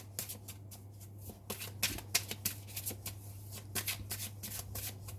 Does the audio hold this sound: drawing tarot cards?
yes